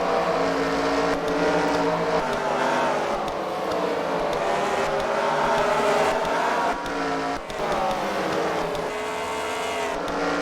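Race cars in a CWRL fight night heat at The Freedom Factory roar continuously, engines droning and surging loudly as the pack circles the track, with no talk over them.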